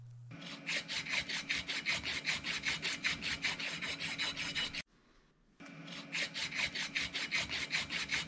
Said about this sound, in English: The hole in the washer is being widened on the lathe.